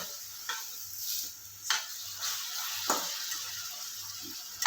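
One finely chopped tomato sizzles gently as it's stirred into a pan of macaroni pasta over a low gas flame, with soft scraping strokes and occasional clicks up close.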